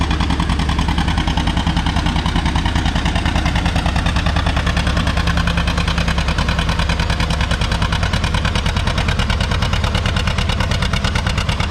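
A John Deere 820 tractor engine runs steadily at a vintage tractor pull in Lynden, Washington, its loud, even diesel-like throb carrying for the whole stretch with no voices over it.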